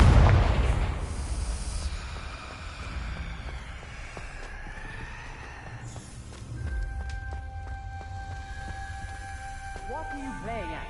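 A Confringo fire spell in Hogwarts Legacy goes off with a loud, booming burst at the start, then rumbling debris and clattering fade into quieter chimes and shimmering tones. Speech can be heard during the clip.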